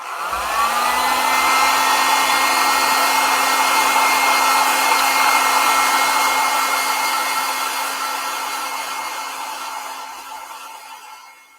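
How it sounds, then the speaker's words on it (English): A hair dryer whirs loudly and steadily at close range for several seconds, its pitch rising briefly as it starts, then fading as it winds down. "So I'm going to just get my hair dryer"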